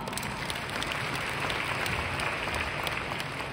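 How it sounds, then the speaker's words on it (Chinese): An audience at a Malaysian leadership training meeting gives applause for the boss: a steady, dense wash of clapping holding at an even level throughout, somewhat distant and muffled. "所以我们再次给老板一个掌声好不好？"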